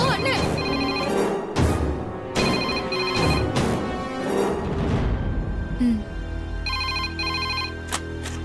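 A telephone rings in a Tamil TV serial scene, with repeated bursts of a bright electronic ring over dramatic background music and some talk.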